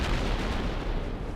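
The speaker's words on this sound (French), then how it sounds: "Je sais pas si vous entendez les bruits d'explosion" Explosions from TNT in the Minecraft video game produce a loud, dense, continuous rumble of booms, close and heavy, with no voices over it.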